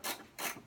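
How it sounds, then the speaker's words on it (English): An SK ratchet wrench with a fine-tooth mechanism ratchets in two quick bursts of close, crisp clicking, heard alone. "you can hear the ratchet action on this. It's a little coarse. It's very fine tooth."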